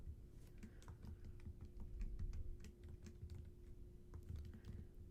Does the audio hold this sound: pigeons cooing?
no